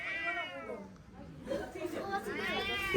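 A cat gives close, drawn-out, wavering meows at the start and again near the end, over a noisy indoor background with voices.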